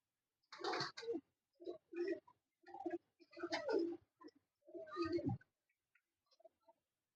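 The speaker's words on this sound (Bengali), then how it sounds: "খুব সুন্দর প্যাটার্নের পায়রা।" Kalshira pigeons, including a cock bird, cooing in a loft, with several short throaty bursts spaced across the clip, close and fairly clear with a few faint ticks between calls.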